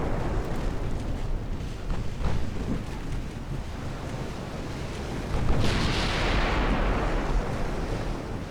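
Warship guns firing in the naval battle game Ultimate Admiral: Dreadnoughts, heavy rumbling booms over a constant roar of sea and wind, with one louder blast rolling out near the end.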